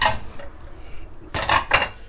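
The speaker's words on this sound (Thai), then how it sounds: "จะเปิดหม้อแล้วนะครับเพื่อน" A metal lid comes off a pot of stewed black chicken with Korean ginseng, giving a few sharp clattering clinks of cookware after a brief quiet stretch.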